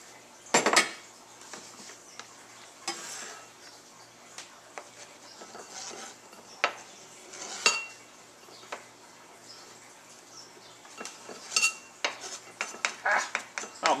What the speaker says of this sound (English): I'm just going to put it in a bowl.